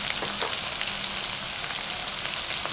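Sapsap fish simmers in its own juices and oil, giving a steady, close sizzle and bubbling crackle that keeps going without a break.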